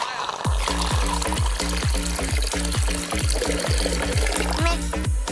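Real water pours steadily into a small cardboard toy bathroom, with a continuous splashing rush overlaid by rhythmic bright plinks and drips, loud and close throughout.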